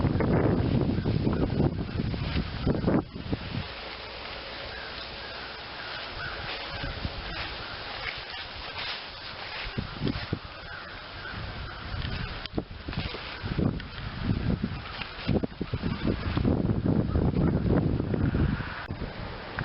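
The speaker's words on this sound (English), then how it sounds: "So here's really the first breezy day since I put this up." Steady wind buffets a tarp covering a camper roof outdoors, a continuous rushing roar with gusty swells and flapping rustles, loud and close to the microphone, with no one speaking.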